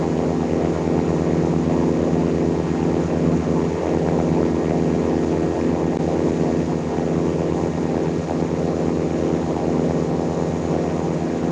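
A simulated aircraft in Infinite Flight takes off from runway 26 at Albuquerque with a steady, loud propeller-engine drone that holds unbroken throughout.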